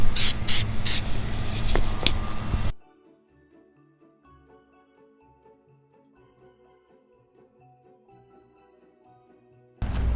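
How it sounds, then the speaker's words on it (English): A spray can hisses out a clear coat of shellac onto life-sized candy Christmas decorations, a loud bursty spray lasting under three seconds, followed by a long near-silent stretch and a brief burst of noise at the end. "what we're going to do is just put a clear coat or a shellac over the top"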